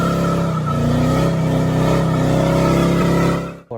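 A Chevy square body crew cab truck drives along with a steady, loud engine drone and rolling road noise, the engine note rising slightly midway before cutting off at the end.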